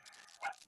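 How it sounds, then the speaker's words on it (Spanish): A dog barks once, faint and distant, during a chemistry engineering class, a short single yelp over quiet room background. "Hay un perro que está ladrando."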